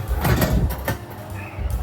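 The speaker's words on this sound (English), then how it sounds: "Close this door up." An oven door is pushed shut in a home kitchen, a close, loud thump and clatter of the door swinging closed, with a short rattle after it.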